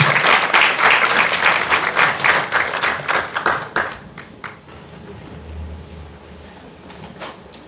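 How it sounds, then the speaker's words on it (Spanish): Applause breaks out for a woman minister at an agreement signing ceremony in Arequipa, a dense crowd of clapping that fades into scattered claps and room noise. "las palmas para ella, por favor"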